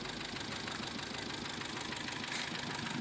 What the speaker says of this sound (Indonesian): Mesinnya goyang-goyang.